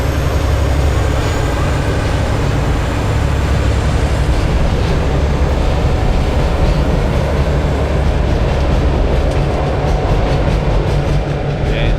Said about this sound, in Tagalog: Ayun na, alis na yung tren.